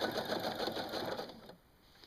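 A sewing machine runs steadily as it stitches stretchy elastane onto a prefold cloth diaper, a dense close whir that stops near the end of the clip.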